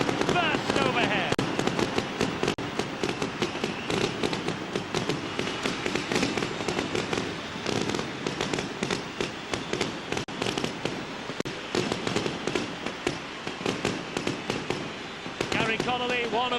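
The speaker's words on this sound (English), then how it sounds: "he looks determined as the fireworks burst overhead." Fireworks bursting overhead at a stadium during a 2001 Great Britain versus Australia rugby league test, a dense continuous barrage of sharp crackling pops and bangs, loud and sustained, with a commentator talking over it.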